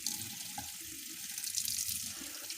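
Water runs steadily from a kitchen tap into the sink, a continuous hissing splash, close and fairly quiet, with no voices.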